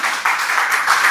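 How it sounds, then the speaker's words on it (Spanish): A church congregation claps in praise, a dense burst of applause from many hands, loud and close, filling the whole short moment. "Dale un aplauso fuerte al Señor."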